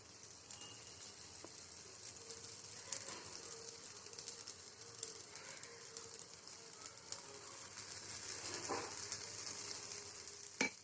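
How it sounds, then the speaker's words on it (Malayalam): Batter for honey candy (thaen mittai) fries in hot oil over a medium flame, giving a soft, steady, faint sizzle that carries on alone with a few light clinks. "ഇനി ഈ മാവ് നമ്മൾ കുറേശ്ശെയായിട്ട് ഇതിലേക്ക് ഒഴിച്ചു കൊടുക്കാം."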